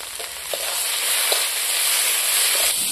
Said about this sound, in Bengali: লঙ্কার গুঁড়ো দিলাম।